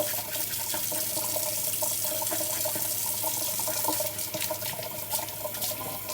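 Water runs steadily from a tap into a sink while beets are scrubbed clean for quick pickles, a continuous soft rush with faint splashing and light scrubbing close by.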